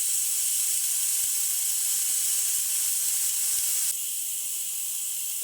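A pressure cooker whistles, a steady, loud hiss of steam rushing out under pressure, continuous and airy, dropping slightly in intensity near the end.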